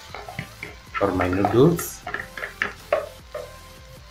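Noodles being stirred through a pot of starchy soup with a utensil, scraping and clinking against the pot over a few seconds, with a voice talking over the stirring.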